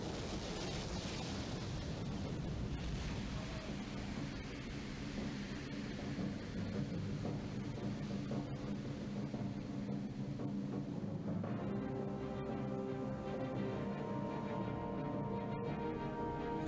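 Atlantic flood waters bursting through a land bridge and pouring over a cliff edge, a deep, continuous roaring rush like heavy surf and thunder that swells and churns steadily throughout.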